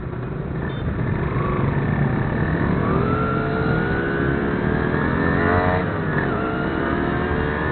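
Motorcycles and cars revving through Jakarta night traffic, a continuous roar of engines with rising and falling revs as vehicles accelerate close by.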